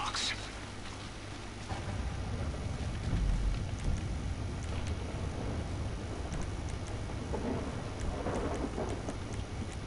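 A thunderstorm in a PS4 video game: steady rain hiss with low rumbling thunder swelling around the middle, continuous and fairly faint.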